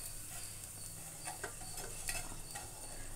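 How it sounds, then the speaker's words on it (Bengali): Two dried red chillies sizzle in hot mustard oil, a quiet, steady crackle with a few light metallic stirring taps, close by and without any voices. "তেলটা গরম হয়ে গেছে তো এখানে দিয়ে দিলাম দুটো শুকনো লঙ্কা"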